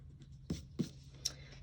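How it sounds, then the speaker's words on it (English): An eraser rubs excess pencil lines off paper in three short, soft strokes, close and quiet against a faint background hum. "I have a lot of excess going on, so I'm going to erase that"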